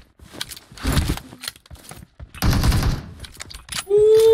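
Bursts of rapid gunfire in PUBG Mobile in two loud volleys, broken by quieter clicks and small sounds, ending on a rising electronic tone.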